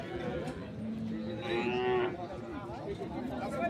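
A cow moos once, a long low call up close, with faint murmuring voices in the background, at a dairy cattle market in Ambari.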